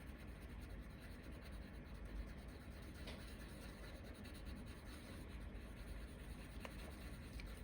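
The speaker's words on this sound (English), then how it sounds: "I'm moving my hand closer to the front of the colored pencil so I can get more pressure." A colored pencil scribbles small, tight circles on paper with firm pressure, a soft continuous scratchy rubbing with faint strokes, close and quiet against steady background hiss.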